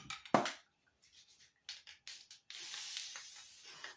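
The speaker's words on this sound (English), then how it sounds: "I'm going to spray it with some cooking spray" A few short spritzes of aerosol cooking spray onto a baking dish for macaroni and cheese, then a longer continuous hiss, close and fairly quiet.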